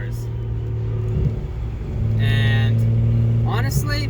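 A BMW E92 335i with the N55 engine revs, its engine rumbling steadily and swelling in a held, louder stretch midway, with a voice briefly speaking over it.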